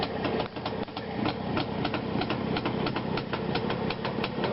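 A motorcycle engine runs steadily with a rapid, even pulsing beat close by, with no talking over it.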